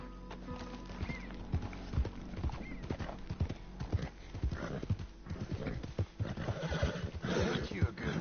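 In Red Dead Redemption 2, hooves clip-clop in a steady rhythm while a horse snorts and whinnies, with a voice talking over the sounds.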